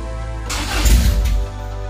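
A newly built car engine cranks and fires up, catching with a loud burst of combustion that rises briefly before settling into a rough run, heard up close over a steady low hum.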